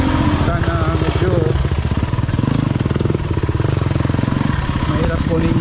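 A Beta 300 RR dirt bike engine runs steadily nearby on a trail, its rough, pulsing motor note rising and falling as the throttle changes.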